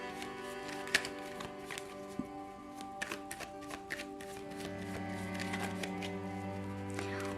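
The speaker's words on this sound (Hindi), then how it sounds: "तो शफल कर लेते हैं।" Tarot cards are shuffled by hand in repeated quick bursts of crisp riffling and tapping. Soft sustained tones play underneath, and the shuffling grows busier toward the end.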